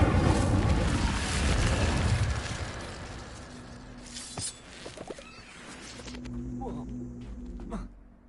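The Incendio fire spell is cast in Hogwarts Legacy: a loud, rushing burst of flame that roars for about two seconds, then fades into quieter ambience with scattered footsteps and light thuds.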